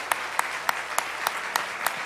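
A church congregation at a Christmas Day Korean Methodist service claps to welcome newly confirmed members. Crisp, evenly spaced claps sound roughly three times a second over a softer bed of scattered applause.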